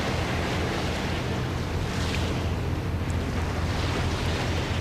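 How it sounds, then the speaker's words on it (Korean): A boat engine roars steadily on a sea crossing near Yeosu, Korea. A dense, constant wash of engine noise mixes with water and wind hiss, with no break from start to finish. "집으로 데려다주는 엔진 소리가 요란하다."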